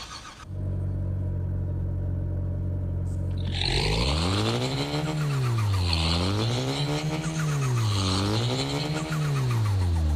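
Car engine droning steadily in Car Parking Multiplayer 2, then revving in repeated rising and falling waves as the car drives and skids, loud and continuous throughout.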